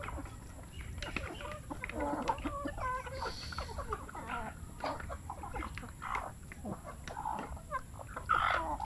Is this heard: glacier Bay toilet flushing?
no